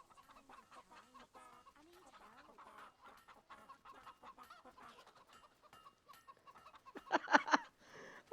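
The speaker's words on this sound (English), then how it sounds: "Oh, just listen to the chicken noises." Chickens cluck and squawk in the Fable 3 video game, a busy run of bird calls under a low background bed, building to a loud burst of flapping clucks near the end.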